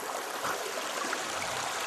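A small creek at a former camping spot turned picnic area trickles and burbles steadily, a close, continuous wash of running water with no voices.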